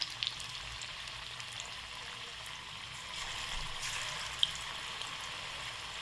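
Spinach pakoras frying in oil over a low flame, a faint, steady sizzle with a soft bubbling hiss that swells slightly midway, plus a couple of tiny clicks.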